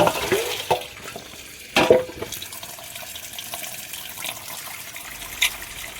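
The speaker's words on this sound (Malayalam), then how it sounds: "പിന്നെ ഞാൻ പാത്രം കഴുകാനും വേണ്ടിയിട്ട് വെള്ളം തുറന്നിട്ടിട്ടുണ്ടായിരുന്നു." A kitchen tap left running for washing dishes, giving a steady close hiss of flowing water with a few sharp clinks of utensils knocking in the sink.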